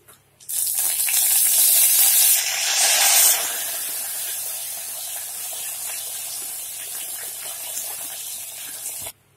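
Dried red chilies drop into hot oil in a pan for betel leaf rasam, bursting into a loud, close sizzle and spray that eases after a few seconds into a steady, softer frying hiss.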